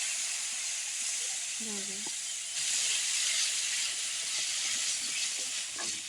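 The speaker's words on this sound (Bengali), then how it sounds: "তেলের মধ্যে পেঁয়াজ কুচি, রসুন কুচি দেওয়া হয়েছে।" Chopped onion and garlic sizzle in hot oil for tempering a village-style dal, a steady broadband hiss that swells slightly partway through, with a brief faint voice early on.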